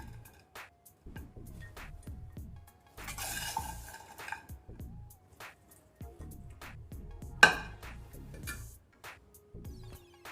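A spoon scrapes and stirs bitter gourd garlic karam in a pan, with intermittent clinks of utensil against metal, light rustling and one sharp knock near the end, close and fairly quiet.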